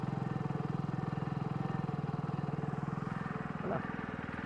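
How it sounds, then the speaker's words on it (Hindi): Hero Splendor Plus motorcycle engine idling steadily, its exhaust note a close, even low putter held for several seconds, with a brief faint sweep near the end. "आइडियल कंडीशन पर इंजन साउंड सुनो, एग्जॉस्ट नोट सुनो।"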